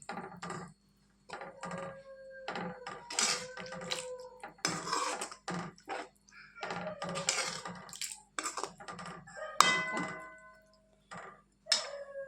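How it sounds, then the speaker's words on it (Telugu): Boiled elephant foot yam pieces are stirred in a pan, giving repeated close metallic clinks and scrapes of a spoon against cookware in short irregular bursts with brief pauses. "కంద ముక్కల్ని వేసి 4 వైపులు కలుపుకోవాలి."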